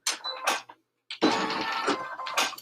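A home embroidery machine runs a placement stitch, giving a loud mechanical rattle in short bursts with a brief pause before a longer steady run of rapid needle strokes.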